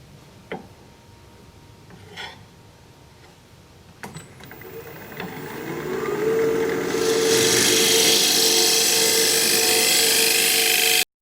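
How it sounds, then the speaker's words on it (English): A tool scrapes an end-grain wood bowl spinning on a lathe, starting with a few clicks and taps, then building into a loud, continuous hissing scrape. "let's scrape it"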